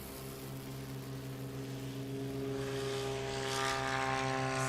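A Cessna 206 STOL airplane takes off at a short-takeoff competition, its propeller engine droning steadily and swelling slightly as it builds power at moderate distance, with no talking.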